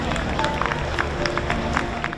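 Crowds applaud outside Buckingham Palace, a steady wash of clapping with scattered sharper claps and a murmur of voices, heard at moderate distance.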